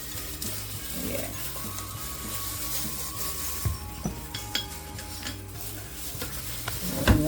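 Batter for a non-alcoholic Jamaican Christmas cake, with eggs and a tablespoon of lime juice, being stirred in a bowl, giving a steady scraping, sloshing swirl with a few clinks of the utensil against the bowl.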